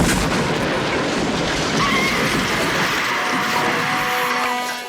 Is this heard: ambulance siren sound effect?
no